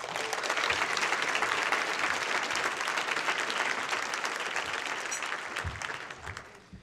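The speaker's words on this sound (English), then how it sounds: "Please give him a round of applause." An audience at a banquet applauds a university Vice President of Student Affairs, dense sustained clapping from many hands that holds steady, then tapers off in the last second.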